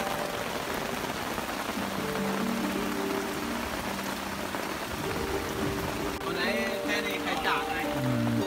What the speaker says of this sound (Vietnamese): khi mưa vẫn hình thành, như nghe tiếng trên mái bạc kêu lóp bóp lóp bóp